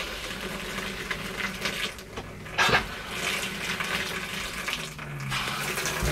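A travel trailer toilet flushes with a steady hiss of rushing water, and the water pump hums underneath. Midway there is a brief louder gurgle, then the flow continues evenly with no one talking.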